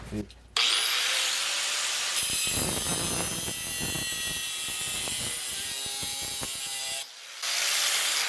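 An angle grinder cuts car body metal along a guide while repairing the inner rocker of a Mercedes W109/108, a loud high whine running steadily with gritty grinding and scraping before dropping briefly and spinning back up.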